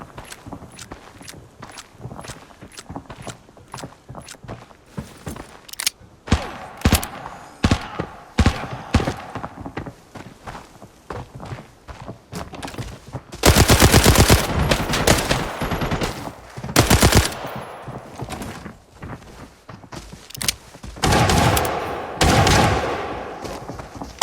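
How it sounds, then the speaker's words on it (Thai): Rapid gunfire in the video game Arena Breakout on a farm map, with dense bursts of automatic shots and heavy, loud volleys in the second half, interspersed with footsteps and quieter movement sounds. "ยิงหมดใส่เพิ่มแม่ศัตรูไม่ยอมตายครับ"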